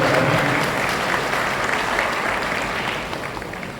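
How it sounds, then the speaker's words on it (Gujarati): Loud, dense applause fills a farewell ceremony for a police superintendent in Petlad, holding steady throughout and easing slightly at the end. "આપણે સૌ જોરદાર તાળીઓના ગણગણાટ"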